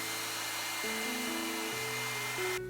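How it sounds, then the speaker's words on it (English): A hair dryer blow drying a wig, a steady close whirring hum whose pitch steps up and down as it is moved or adjusted, running alone without voices. "I'm gonna blow dry it one more time"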